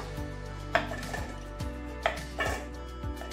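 Knife blade chopping a ridge gourd on a cutting board in a home kitchen, a few distinct close cuts spaced irregularly with a low steady hum underneath and no talking.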